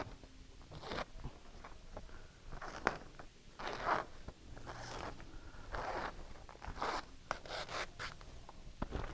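Cut sublimation transfer material is peeled away while weeding, making soft, scratchy peeling and rubbing sounds in short bursts with small ticks between them. The sound is quiet and close, and there is no talk.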